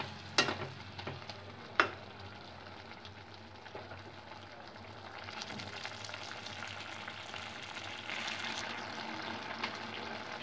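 Vegetables for a broccoli and potato curry simmer in a pot with a soft, constant bubbling hiss, punctuated by a couple of sharp clinks early on and louder mixing toward the end.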